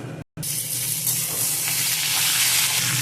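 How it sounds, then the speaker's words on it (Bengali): Mixed vegetables for Bengali dub shukto fry together in spiced oil, producing a loud, continuous close-up sizzle with stirring, briefly cut by a silent gap near the start and then building steadily. "এবার আমি সব সবজিগুলো একসাথে দিয়ে ভেজে নেব"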